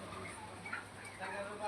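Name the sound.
native chickens clucking at a poultry market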